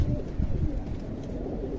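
Teddy highflyer pigeons cooing close by, low soft repeated coos in a brief burst with no talk over them.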